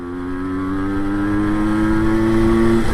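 A 1984 MZ TS125 two-stroke motorcycle engine holds a high, steady rev well past 6,000 rpm, its buzzing tone climbing slightly and staying loud and close throughout.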